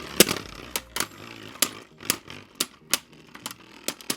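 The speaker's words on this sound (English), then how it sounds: "Dang, it's having a really hard time against this Beyblade." A hand-spun Zwei Longinus Beyblade clashes against a round defense-type Beyblade, giving sharp metallic clacks at irregular intervals over a steady spinning whir.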